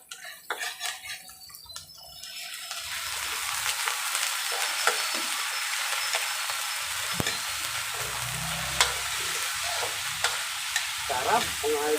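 Chop suey vegetables and ingredients sizzle and hiss in a hot pan, starting quieter and then a steady, loud frying sound with occasional stirring scrapes and clinks.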